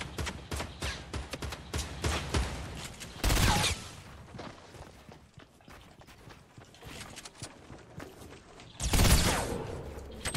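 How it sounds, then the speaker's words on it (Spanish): Gunfire in the video game Fortnite, a busy battle of rapid repeated shots with two loud bursts standing out, dense and continuous throughout. "hay 40 personas disparando"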